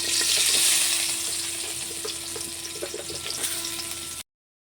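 Onions sizzle in hot oil in a cooking pan, a loud, dense crackling hiss close by that eases slightly before stopping abruptly.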